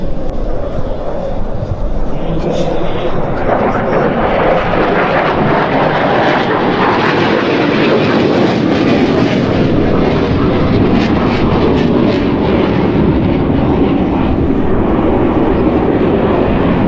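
A military jet roars through a knife edge pass at an air show, a loud sustained engine rumble and rushing whine that builds and shifts as the aircraft sweeps past.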